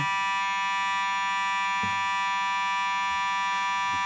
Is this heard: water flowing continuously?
no